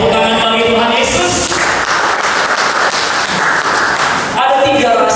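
A church congregation at a Sunday service breaks into a burst of clapping that swells in the middle and then fades, mixed with a voice and other sound from the hall.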